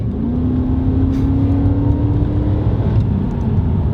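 A Nissan Cima car engine hums steadily while driving, a smooth low drone with a rising tone as it gains speed, fairly close and continuous.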